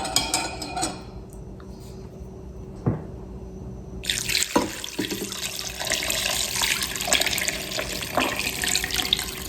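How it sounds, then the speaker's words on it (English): Beef broth is poured into a pot of homemade chili, a close, continuous splashing stream that starts abruptly partway through and keeps running steadily to the end, with no talking. "we're going to also go in with our beef broth over here"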